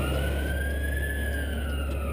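Emergency vehicle siren wailing at a train accident scene at sunset, a single steady rising and falling tone sounding fairly close and loud over low rumbling traffic, with no talk.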